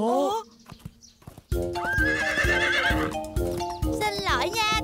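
Cartoon horse whinnying loudly with rising and falling calls, then steady clip-clopping hooves, in an animated Korean children's series dubbed in Vietnamese, with music and a brief voice at the start.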